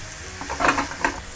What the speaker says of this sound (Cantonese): 我哋放咗個牛落去之後咧，千祈唔好喐佢住，等佢咧自己煎一煎先